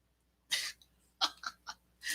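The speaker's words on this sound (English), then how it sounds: "cough, cough" Several short coughing bursts from a person, close and fairly loud, spaced irregularly with quiet gaps between them and no talking.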